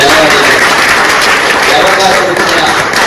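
A crowd claps steadily throughout a ceremony honouring a teacher receiving a Best Teacher award, loud and close, a continuous wash of applause with a voice speaking over it.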